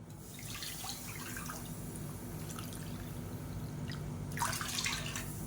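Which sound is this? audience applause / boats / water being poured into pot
water being poured into pot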